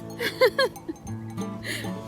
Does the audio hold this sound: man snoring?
no